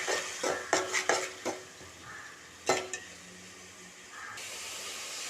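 Onions are stirred in a pan for chicken gravy, with several sharp scraping clinks of a spoon against the pan over a soft, steady sizzle, close up and without talk.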